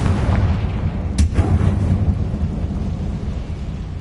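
A Confringo fire blast spell in the Hogwarts Legacy video game bursts as a loud boom around the one-second mark, then a rumbling roar that rolls on steadily with no talk.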